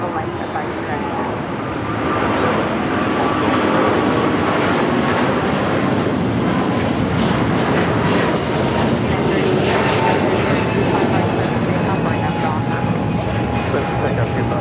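A Qantas Boeing 787 Dreamliner taxiing at Los Angeles airport gives a steady, broad engine roar that holds loud and even throughout, with radio chatter from air traffic control heard over it.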